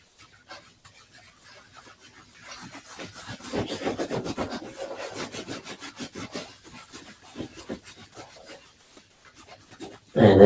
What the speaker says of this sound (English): sit back and rub the knee